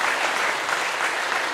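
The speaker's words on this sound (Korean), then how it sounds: "그들의 격려의 박수 한번 하시죠." Church congregation clapping during a Sunday worship service, a short, dense burst of applause, close and fairly loud, with no voices over it.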